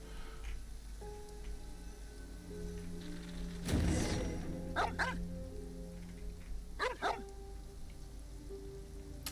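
A dog in the Genshin Impact video game barks a few times, once loudly and then in two sharper paired bursts, over steady rain-like patter and soft game music, fairly quiet overall.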